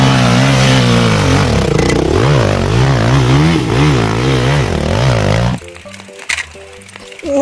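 A toy motocross motorcycle gives out a loud, steady electronic engine whine with a rising and falling revving pattern for about five seconds, then cuts off and leaves quieter, sparse clicks and short tones.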